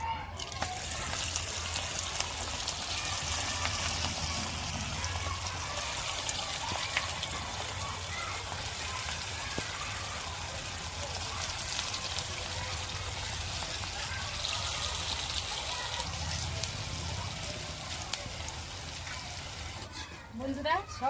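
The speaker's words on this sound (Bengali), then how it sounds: "আবার ওই একই রকম ভাবে পকোড়াগুলো ছেড়ে দেব।" Pakoras made with fig and gandal leaves fry in hot oil, a steady close bubbling hiss with crackle that runs the whole time and never lets up.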